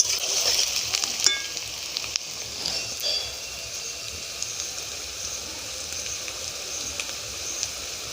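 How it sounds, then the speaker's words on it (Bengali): Onions frying in a pan as the first step of a yogurt chicken dish: a steady, close, hissing sizzle that runs the whole time with small crackles and no talking. "পেঁয়াজটা যতক্ষণ না হালকা লাল হয়ে আসবে ততক্ষণ আমরা ভাজতে থাকবো।"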